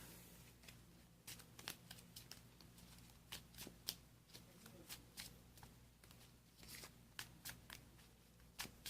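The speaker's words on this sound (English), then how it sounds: "Shuffling our deck." A Pokemon card deck is riffled and shuffled close up, with quick crisp bursts of card flutter in an irregular rhythm, faint and steady over a low background hum.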